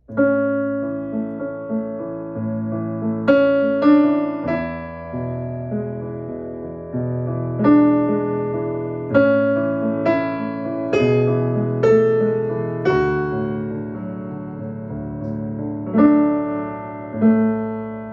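A single-line piano melody plays slowly and sparsely, notes ringing out one at a time with gentle sustain and no accompaniment.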